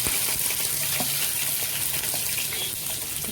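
Garlic crackling and sizzling in hot oil for gooseberry amla pickle, a dense steady frying hiss with small pops, close and without talk.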